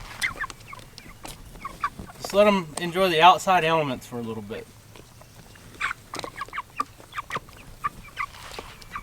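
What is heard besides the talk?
meat chickens clucking outdoors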